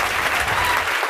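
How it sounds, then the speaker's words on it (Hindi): Loud audience applause on a show stage welcoming a guest, a short dense burst of clapping with no voices over it. "आ जाइए एक बार इनके लिए जोर से ताली होना चाहिए।"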